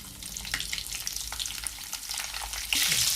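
Urad dal, curry leaves, garlic and green chillies frying in hot oil for a radish fry, giving a close, continuous crackling sizzle that swells louder near the end as more goes in.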